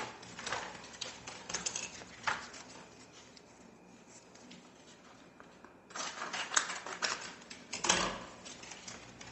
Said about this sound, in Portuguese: Vou cortar aqui o acetato.